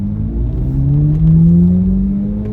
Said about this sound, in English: Listen to this V8.